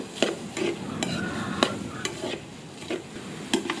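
Hot dog, carrot, tomato and onion are stir-fried in a pan. A spatula makes steady, repeated scraping strokes over a low, continuous sizzle, close and moderately loud.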